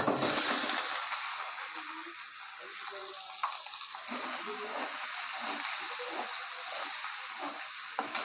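Chopped onions frying in hot oil in a kadai, a steady close sizzle and hiss that flares loud at first, then settles into a continuous bubbling crackle.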